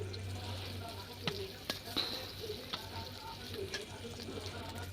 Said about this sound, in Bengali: আমার মাছটি ভাজা নিছি, ভাজা হয়ে গেছে, একদম ভাজা ভাজা করে নিচ্ছি।